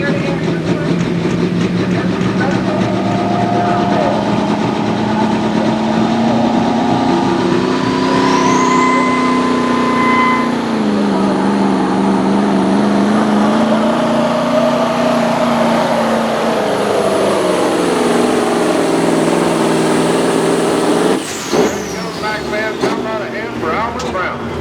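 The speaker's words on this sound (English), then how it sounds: "It's got the 998 cubic inch V8 Mac under the hood." At the 2024 Boonsboro truck pull, a truck with a 998 cubic inch V8 Mack engine roars continuously and very loud, its pitch swelling and sagging as it pulls before cutting off abruptly, with an announcer talking over it.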